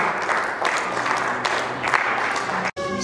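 A church congregation claps together in dense, steady applause that continues for a few seconds before cutting off abruptly near the end.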